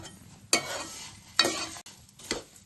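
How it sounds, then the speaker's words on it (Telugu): Flattened rice (poha) stirred and dry-roasted in a pan for a mixture snack, with three scraping stir strokes over a soft crackling sizzle, close by and with no talk. "హై ఫ్లేమ్లో పెడితే మాడిపోతాయి అటుకులు. ఇలా వేపుకోవాలి."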